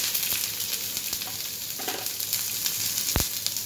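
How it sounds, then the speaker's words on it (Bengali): Onions sizzle steadily as they fry in a pan with dried red chillies and tempering spices, a continuous close crackle with a sharp clink near the end. "এবারে আমি পেঁয়াজগুলো দিয়ে দিলাম।"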